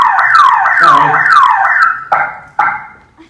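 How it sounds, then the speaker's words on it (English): A loud car alarm cycles through rapid warbling tones, then switches to a couple of sharp repeated honks before cutting off. "Is that a car alarm?"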